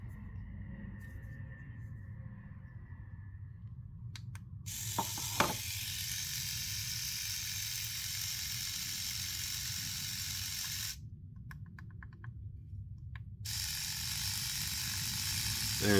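A Dspiae reciprocating sander runs with a bright, steady mechanical whir that starts, stops and starts again as it steps up in speed, close and fairly loud, with small clicks from the button.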